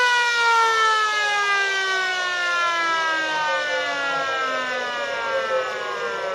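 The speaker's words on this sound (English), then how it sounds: "I think that mark was taken after the siren." A loud end-of-quarter siren sounds at a country football ground during a league semi-final, one long sustained wailing tone with a slow downward slide, heard alone.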